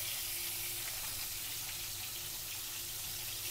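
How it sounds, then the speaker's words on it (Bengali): Small fish lightly frying in oil in a home kitchen, giving a soft, steady hiss and sizzle that runs evenly throughout at low volume, with no talking. "একটু মাছটা হালকা হালকা করে ভেজে নিচ্ছি"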